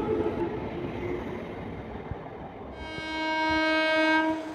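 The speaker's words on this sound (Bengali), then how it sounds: "ট্রেনটি এখন রামরাজাতলা ডাউনে প্রবেশ করছে" A Balichak–Howrah EMU local train entering Ramrajatala station on the Howrah Division of South Eastern Railway: a broadband rumble of wheels on rails gives way to a loud, sustained electric horn in the last two seconds.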